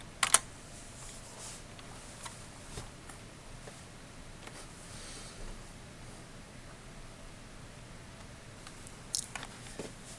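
Terminal commands being typed on a computer keyboard during a ROS install, soft scattered keystrokes with a few louder clicks near the start and end, faint and close, with no talking.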